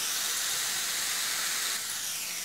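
Sliced red onion sizzles in a hot pan as a steady, loud hiss that holds level throughout and eases slightly near the end, with no talking.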